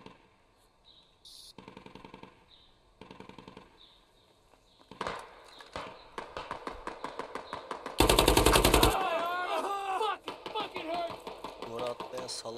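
Gunfire in the military shooter game Squad: rapid automatic bursts alternate with pauses, the loudest, densest stretch coming midway, with a person talking between and over the shots.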